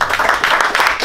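An audience at a business talk applauds the panel guests in a short, dense burst of clapping that stays loud for the whole moment.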